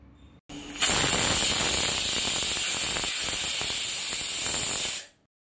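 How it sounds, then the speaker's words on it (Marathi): A pressure cooker boiling potatoes releases a loud, steady hiss of steam for about four seconds, starting abruptly and cutting off sharply. "कुकरच्या शिट्ट्या होत आहेत"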